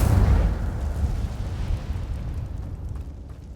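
Incendio fire spell in Hogwarts Legacy unleashes a loud, deep booming blast with a sharp onset, then a long rumbling roar that slowly fades over several seconds, with no talking.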